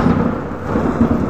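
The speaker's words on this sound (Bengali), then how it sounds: "মেঘ ডাকছে কিভাবে" Thunder grumbling low and continuous under a steady heavy monsoon downpour, a brief, fairly loud deep rumble with no voices.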